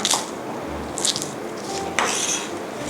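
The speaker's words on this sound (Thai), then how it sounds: "หั่นผักชีฝรั่งนะคะรากเนี่ยเราไม่เอาก็เอาแยกไว้นะคะ" Three sharp knife chops cut parsley on a cutting board, spaced about a second apart, over a quiet background.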